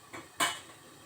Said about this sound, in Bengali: পানি দিয়ে ভালোভাবে নাড়াচাড়া করে নিব আর অল্প সময়ের জন্য একটু ঢেকে দিব।